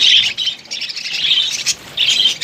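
Pet budgerigars chirp steadily in a breeding colony with clay pot nests, bright overlapping tweets coming in bursts close by, with no voices.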